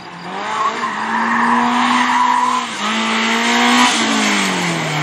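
A BMW E30 318iS historic race car slides through a slalom with its engine revving hard, tires squealing, and revs dipping briefly at each gear change. The sound is loud and close, with no voices over it.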